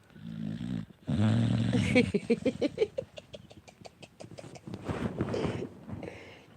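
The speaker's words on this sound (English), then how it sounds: "My dog snoring." A dog snores nearby in a raspy, rattling rhythm of quick breaths, while a person talks softly over it.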